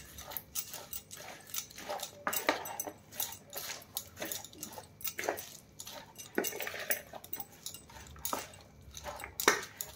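A metal spoon scrapes and clinks against a pan while mashing and mixing cooked potato, giving close, irregular taps and scrapes in quick succession with quiet gaps between them.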